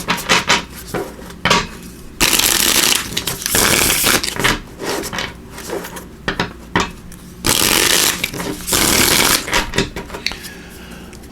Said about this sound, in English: So I'm going to give these a shuffle.